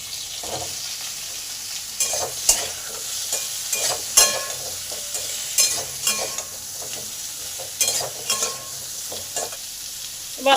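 Potatoes and pumpkin pieces fry in oil in a covered pan, giving a steady sizzle broken by sharp clatters of stirring at irregular intervals, close and fairly loud with no talking.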